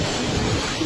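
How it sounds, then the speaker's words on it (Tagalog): A strong typhoon wind at around 159 km per hour roars in a dense, continuous rush, loud and close to the microphone, with no clear whistle and no speech. "parang sumisipol pa yata ng hangin na yan"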